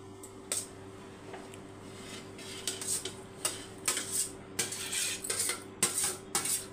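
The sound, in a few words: mixing cooled rice in a vessel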